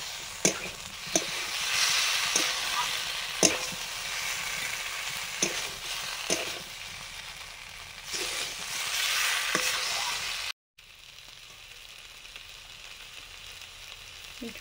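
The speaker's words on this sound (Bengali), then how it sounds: "ঝোল ফুটে গেছে" Curry gravy made with a ground paste of melon seeds, cashews and fried peanuts bubbles and sizzles steadily in a pan, with occasional louder spits and pops, then drops briefly to quieter simmering.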